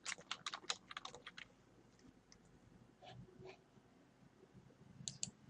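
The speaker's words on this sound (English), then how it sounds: "I'll type in it contact and put my name" Rapid clicks of typing on a computer keyboard come in a quick close burst at the start, thin out, then return in a short flurry near the end, with faint room noise in between.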